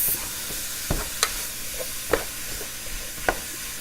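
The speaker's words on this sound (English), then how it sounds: "We're gonna brown this and fry it up" Ground meat browning in a pan for taco soup, with a faint steady sizzle broken by several sharp clicks and scrapes of stirring, close and moderately quiet, no talking.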